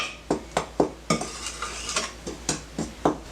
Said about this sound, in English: Now I'm just going to give this all a stir, just so that it gets nice and mixed in.